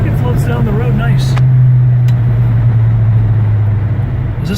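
A 1969 Dodge Charger 500 Daytona cruises along a road with a loud, steady low engine drone and road rumble throughout, while voices talk over it early on.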